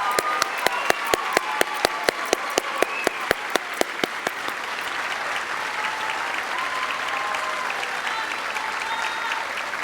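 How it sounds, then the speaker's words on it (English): Audience applause at a nursing white coat ceremony. A steady wash of many hands fills the room, with one person's sharp, regular claps standing out near the mic for the first few seconds before blending into the crowd. "Let's give one last round of applause to our talented group of future nurses"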